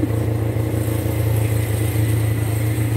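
A motorcycle passing on a street, its engine a loud, close, steady drone with a rough throbbing pulse that holds strong for a few seconds, with no voices over it.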